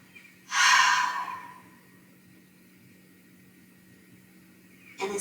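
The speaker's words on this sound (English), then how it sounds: "inhale through the nose, exhale out of the mouth" A single long exhale pushed out through the mouth during a yoga breathing exercise, a loud breathy whoosh that fades over about a second, followed by quiet and the start of another breath at the end.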